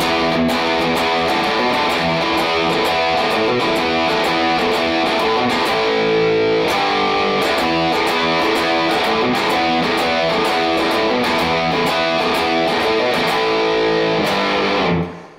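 A heavily distorted electric guitar plays a driving shuffle riff, swung rhythm, loud and steady throughout before it cuts off at the end.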